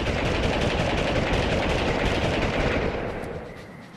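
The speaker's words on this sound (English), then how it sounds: "Oh, they're firing grenades at me." Enemy grenade fire in Army Men 3D erupts as a dense, continuous rattle of rapid gunfire and blasts, loud and sustained for several seconds before tapering off.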